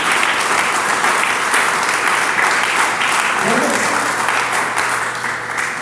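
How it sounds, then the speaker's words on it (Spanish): A church congregation claps loudly and continuously during a sermon, the applause sustained throughout with a faint low hum beneath it. "Denle palmas a Dios del cielo."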